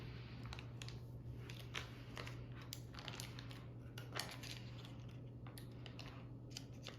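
A knife slicing a stick of butter through its paper wrapper on a kitchen surface while making pie crust: a steady series of soft, crisp crackles and taps, close and quiet, over a low constant hum.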